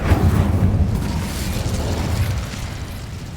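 A fire spell cast in the video game Hogwarts Legacy bursts with a loud whooshing boom, then settles into a rumbling crackle that gradually fades.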